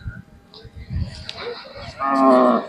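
Khillar cattle at the Jat fair moo. After some low, scattered background noise, one loud, drawn-out moo rises near the end.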